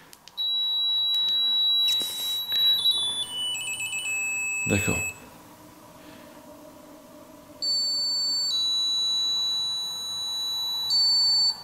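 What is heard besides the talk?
paranormal investigation detector device beeping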